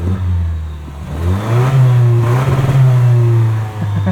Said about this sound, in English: Exhaust sounds good too.